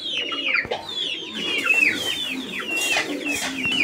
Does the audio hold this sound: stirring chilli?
no